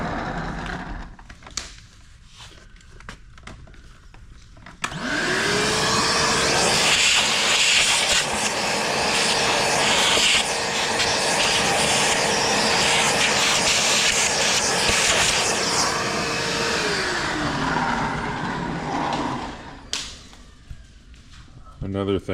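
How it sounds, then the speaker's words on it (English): A shop vac runs loud and steady for about fifteen seconds, sucking up drill shavings inside a Ford F-150 cab during a behind-the-seat stereo install, with hissing suction that starts and stops abruptly. "We'll use a shop vac and get this cleaned up."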